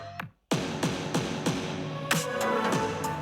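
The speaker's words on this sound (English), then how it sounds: "And then we have the vocal pads that bring us back into the chorus." Dark, moody pop production built on swelling synth vocal pads that lead back into a chorus, with sharp percussive hits landing at a steady rhythm over a sustained wash; loud and close with no talking.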